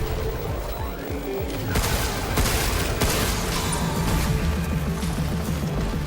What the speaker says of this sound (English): Leave the shooting to me.